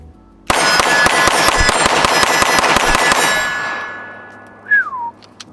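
West German Sig Sauer P226 firing Norma 94 grain frangible 9mm ammunition at a range, a rapid string of about a dozen loud, sharp shots in quick succession, followed by a short whistle-like squeal.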